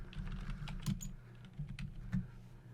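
Quick, soft keystrokes clatter on a computer keyboard in a short, irregular burst, close and quiet, with no voices.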